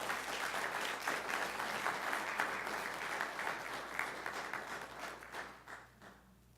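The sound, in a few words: applause congratulating students at board meeting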